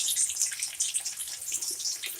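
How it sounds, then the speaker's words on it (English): Chicken pieces fry in hot oil, a steady, close hiss and crackle of bubbling that runs without pause and with no talk. "See that bubbling and frying?"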